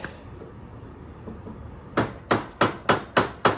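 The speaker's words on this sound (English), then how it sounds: "So that was pretty light hammering." Six light hammer taps on a Harbor Freight mini mill during alignment, sharp metallic knocks in a steady rhythm close by after a quiet stretch of faint shop noise.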